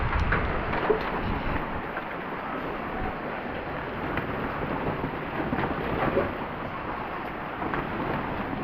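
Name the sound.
rain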